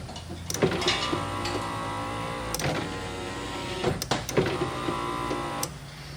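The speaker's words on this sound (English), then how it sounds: "Now I'm going to move my current probe over to the bad window motor." A faulty car power window motor whirs steadily at close range, with occasional clicks and uneven strain in its hum as it runs.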